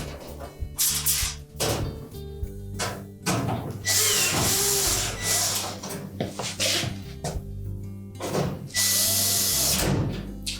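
A power tool drives screws into the back panel of a Frigidaire range in short repeated whirring bursts separated by pauses, close and fairly loud, with light clatter from handling the panel between bursts.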